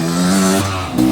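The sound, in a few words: Beta motorcycle revving as it climbs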